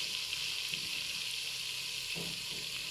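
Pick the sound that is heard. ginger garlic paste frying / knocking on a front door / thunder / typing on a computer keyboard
ginger garlic paste frying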